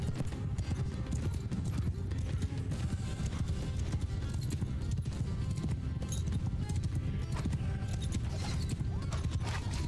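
Cavalry horses gallop in Mount & Blade II: Bannerlord battle, a dense, continuous drumming of many hooves with occasional whinnies, loud and steady throughout.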